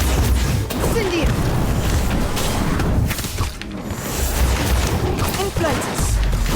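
An Incendio fire spell in the Harry Potter Magic Awakened game bursts with loud whooshing roars and impacts, spread densely across the moment amid game noise, with speech also present.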